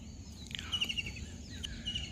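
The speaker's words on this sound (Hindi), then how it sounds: "इसमें एक मैना है" A myna bird calls at dawn among trees, giving a few short, faint chirps over quiet background hum.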